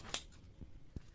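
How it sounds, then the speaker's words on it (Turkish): Scissors cut into the packaging of a Flipper Zero box with two or three crisp snips close up, quiet and alone. "Makasla açarız."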